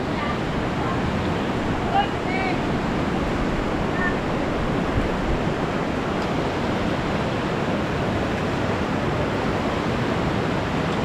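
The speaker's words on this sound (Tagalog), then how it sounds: "malakas ang agos dun guys" A river swollen by floodwater after a typhoon rushes past with a strong current. It makes a dense, continuous roar and hiss, loud and close, with no break throughout.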